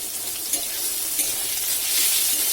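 Chopped onion and tomatoes fry in a pan for a potato egg curry, giving a continuous, even sizzle with faint stirring, close and moderately loud, with no voices.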